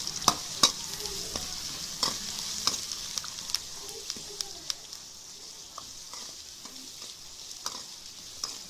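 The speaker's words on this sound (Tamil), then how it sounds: "சேர்த்துட்டு அதை நல்லா எண்ணெயில் வதங்க விடுங்க." Green chili, onion and curry leaves sauté in hot oil with a soft, steady sizzle, punctuated by sharp taps and clicks of a spoon against the pan.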